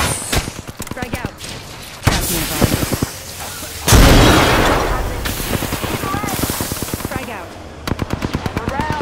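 In Apex Legends, a frag grenade bursts with a heavy boom amid rapid, repeated bursts of close gunfire, with voices calling out in between.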